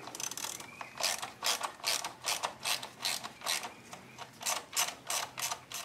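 Ratchet with a 7 mm socket backing out a bolt near the ignition coils of an engine, a steady run of close, crisp clicking strokes at a regular rhythm, with no voice over it.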